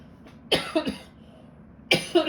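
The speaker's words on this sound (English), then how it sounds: "Of course, now that I sneeze, my coughing's gonna start." Two sharp bursts, a sneeze-like explosive sound followed by short coughs, close and loud against a quiet background.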